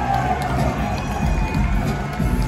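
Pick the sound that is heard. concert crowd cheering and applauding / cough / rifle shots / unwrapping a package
concert crowd cheering and applauding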